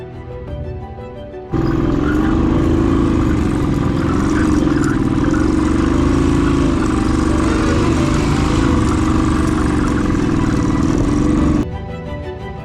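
Motorcycle engine churning steadily through deep landslide mud near Zojila Pass, a loud, sustained mid-pitched drone that starts abruptly, holds for about ten seconds, then cuts off.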